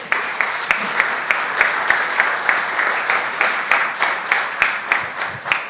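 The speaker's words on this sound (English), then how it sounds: "We should give a round of applause and congratulations to all the award winners in both countries." At an awards ceremony, an audience gives a round of applause for award winners; the claps are fairly sparse and individually distinct, with a regular, steady rhythm throughout.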